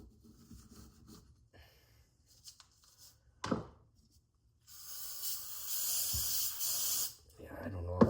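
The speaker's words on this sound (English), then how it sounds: "I don't know if this non-chlorinated brake clean doesn't really do the trick too well with the grease" Non-chlorinated brake cleaner sprays onto greasy rock crawler parts in a steady hiss of about two seconds, following quiet handling noises and a short earlier burst.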